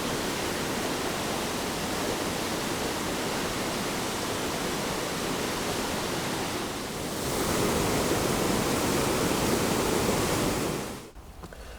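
Waterfall in a Scottish woodland nature reserve, a loud continuous rushing roar of falling water, unbroken for about eleven seconds before cutting off near the end.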